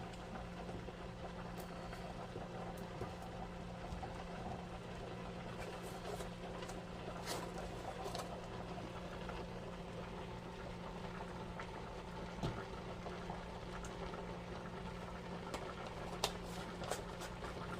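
Cabbage with turkey bacon steaming covered in a pan with no added liquid, a soft constant hiss and low bubbling with scattered faint pops and crackles, steady and close.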